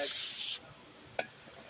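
A can of brake parts cleaner sprays a rag in one sustained, close hiss during work on a 2011-2023 Dodge Charger's brakes, followed by quiet and a brief handling clatter.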